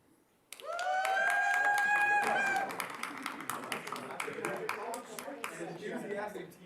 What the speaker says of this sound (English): Comes with its own cheering section.